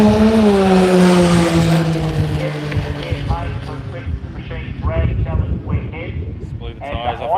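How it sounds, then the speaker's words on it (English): A drag racing street machine launches hard at a drag challenge, and its loud engine note sweeps downward as the tyres spin. Announcer-style talk then runs over the fading car and outdoor wind. "Blew the tyres off on the launch and rolling through."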